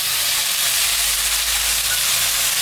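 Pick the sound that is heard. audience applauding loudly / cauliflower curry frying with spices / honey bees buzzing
cauliflower curry frying with spices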